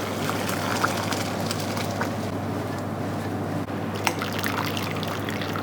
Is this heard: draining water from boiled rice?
yes